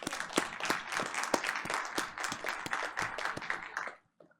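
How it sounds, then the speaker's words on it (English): Audience applause at a board of education meeting, a few seconds of fairly faint, scattered clapping from a modest crowd that stops abruptly. "We can go ahead and clap for him."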